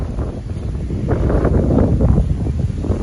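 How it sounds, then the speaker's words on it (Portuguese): Strong wind buffeting the microphone, a continuous low rumbling roar with gusty swells, loud and close, with no voices. "está ventando muito aqui"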